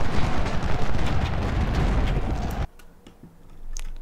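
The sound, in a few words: cannon artillery fire in Ultimate General: Civil War video game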